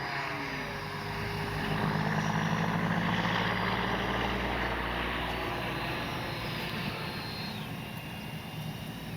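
Freewing F-4 Phantom II RC jet lining up for the runway, a moderate electric ducted-fan whine with shifting tones that swells slightly, then holds steady.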